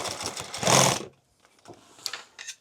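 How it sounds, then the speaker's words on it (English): A sewing machine stitches through a thick, layered tool bag in one loud burst lasting about a second, followed by quieter handling noises and short mechanical clicks. "At some point, I'm going to sew through all of it here."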